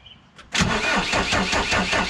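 Volvo BL70 backhoe loader with a Deutz BF4M2012 diesel engine cranks briefly, then catches and settles into a loud, close, rough-running idle.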